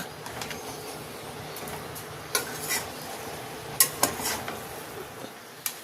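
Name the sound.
stirring and sautéing water lily stem curry in a pan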